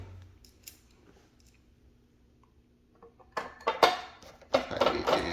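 A screw is driven into a ceiling fan light fitting during installation, heard after a quiet stretch as a run of close, sharp ticking and scraping bursts from the tool, with no talk.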